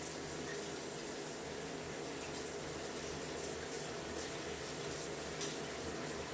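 Water runs steadily from a tap or shower as product is rinsed out of curly hair, a constant close hiss of flowing water with no pauses.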